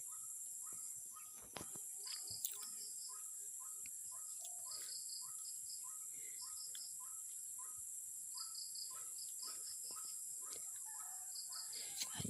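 Assorted birds chirp and call in repeated short bursts near small streams by a pechay seedling plot, set against a steady high insect drone, the calls moderately close and fairly faint.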